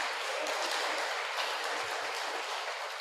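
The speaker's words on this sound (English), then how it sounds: "So please give applause to our three speakers who are here with us" A seminar audience at an engineering faculty gives its visiting speakers a continuous wash of applause. The clapping is steady, fairly faint and distant, with no clear voices.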